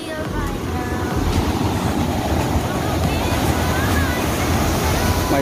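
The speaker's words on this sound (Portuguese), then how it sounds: "Mais uma quedinha d'água aqui." Small waterfall at Salto de São Jorge spilling into a bathing pool: a steady, loud, close rush of falling water, roughened by wind buffeting the microphone throughout.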